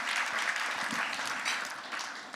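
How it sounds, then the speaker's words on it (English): Audience clapping for one another at a charity impact talk, a dense, steady wash of applause filling the whole stretch, fairly close and loud, with no voices over it. "Can you just clap for each other?"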